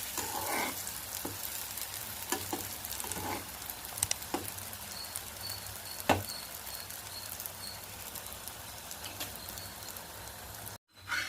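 Brinjal masala frying in a pan over low heat, a steady close sizzle with occasional sharper crackles and stirring scrapes, no talk, ending in a brief dropout.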